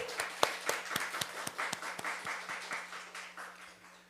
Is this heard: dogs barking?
no